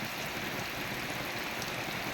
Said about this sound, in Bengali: সকাল সকাল এত বৃষ্টি